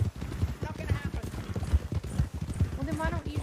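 Horse hooves clip-clop at a steady walking rhythm in the RedM western roleplay game, heard under ongoing conversation between players.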